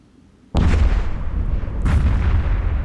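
Dreadnought capital ship being destroyed in the space combat game EVE Echoes, a sudden heavy booming blast with a rumbling, crackling tail and a second burst about a second later, loud and close with no voices.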